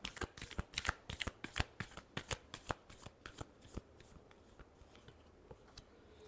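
Tarot cards being shuffled by hand, a quick run of sharp papery riffle clicks in a steady rhythm, close and fairly quiet, easing off toward the end with no voices.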